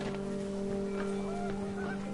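Geese honking in panic in What Remains of Edith Finch, a few short nasal calls rising over a steady droning hum and wind, moderately loud with no talk.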